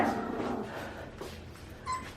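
Four-week-old puppies whimper and cry indoors: faint, thin yelps and whines come in short bursts over a low room murmur, with a brief louder cry near the end.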